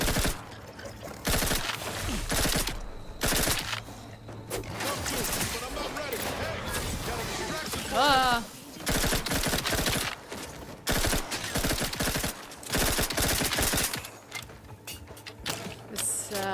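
Gunfire from a gun in a first-person video game, with repeated loud bursts broken by short gaps and mixed with mechanical clatter, while a person talks over it.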